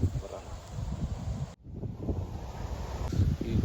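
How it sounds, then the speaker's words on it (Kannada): Cold wind blowing across an open field near young mango saplings, a steady blustery rumble buffeting the microphone, briefly cutting out midway before gusting again. "ಈ ತಣ್ಣು ಗಾಳಿ ಬರ್ತಾನೆ ಐತೆ."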